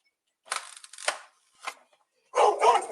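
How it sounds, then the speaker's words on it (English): A dog barks in short, sharp bursts nearby, three quick barks separated by silence and then a louder, rougher run of barking at the end. "Oh, that's the dog."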